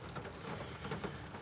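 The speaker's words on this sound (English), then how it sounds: "So see if this rain will let up, otherwise I might have to call it quits." Steady rain falling outdoors at an old pub and railway station site, a faint, even hiss of drops with no voices.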